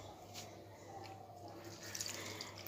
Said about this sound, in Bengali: তবে গাছগুলোতে একটু জল দিয়ে দিই